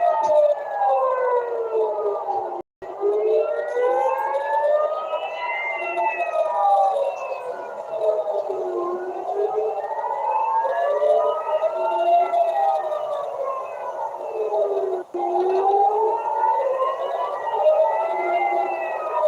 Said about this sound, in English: Sirens right now. Sirens coming out.